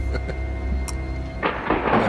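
Thunder from lightning rumbles low in the background, with a broad noisy crack-and-roll swelling near the end over a steady ambient hum.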